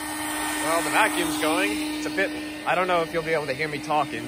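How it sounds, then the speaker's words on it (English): A vacuum cleaner drones steadily in the background while someone talks over it at close range while working on a Volvo 240 exhaust. "Well, the vacuum's going."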